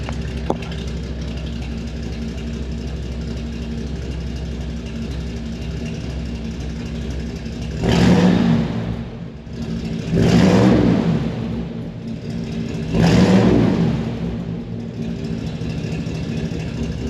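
A 1964 Chevrolet Impala SS with a 409 V8 idles with a low, even rumble, then gets three separate loud revs, each swelling and falling back to idle, with no talking.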